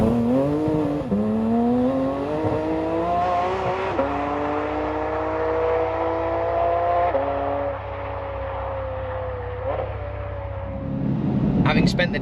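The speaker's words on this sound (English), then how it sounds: "500 brake horsepower rear wheel drive sports car from Porsche" Porsche GT4RS, a 500 horsepower rear-wheel-drive sports car, with its engine droning loud and close, tones sliding down through several shifts before a burst of noise at the end.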